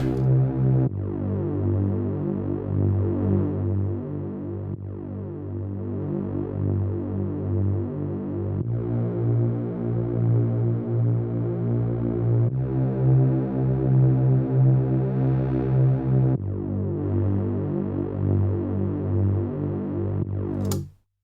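A space disco bassline with added overdrive plays in Logic Pro. Its gritty, buzzing low notes pulse in repeating phrases with short breaks between sections, loud and alone, with no talking.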